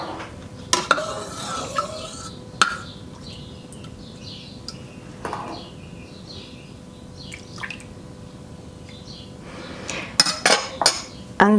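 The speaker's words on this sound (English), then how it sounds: "And then what I need to do is stir in some milk from the pot here." A metal ladle clinks and scrapes against a pot while stirring milk for homemade yogurt, with scattered sharp clinks and a few louder knocks near the end, close up and with no talking.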